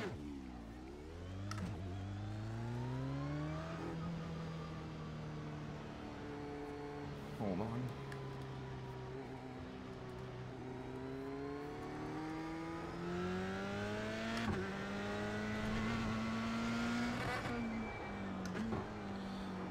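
A four-cylinder race car engine in the iRacing sim revs up and down through gear changes, loud and continuous with rising and falling pitch, while someone speaks briefly over it.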